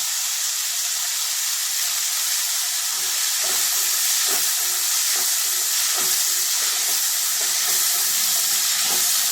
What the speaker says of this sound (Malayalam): അപ്പോൾ അതിന് വേണ്ടിയിട്ട് നമ്മൾ കുറച്ച് നേരം ഒന്ന് വഴറ്റി കൊടുക്കണം